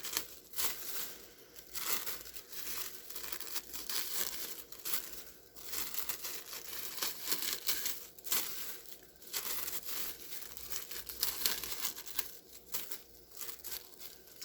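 Scissors cutting a plastic bag into plarn, a close, quiet crinkling and crackling that comes in repeated bursts as the blades work up the bag, with no voice.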